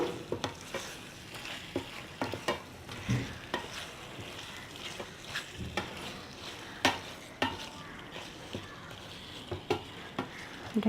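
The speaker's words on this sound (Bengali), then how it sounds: "এখন আমি এটা সব কিছুর সাথে ভালো করে অ্যাড করে দিব, দিয়ে এটা নাড়াচাড়া করে" Vegetables and meat cooked baburchi style fry in a pan while a spoon stirs them, giving a steady sizzle broken by irregular scraping knocks and clinks close to the microphone, with no voices.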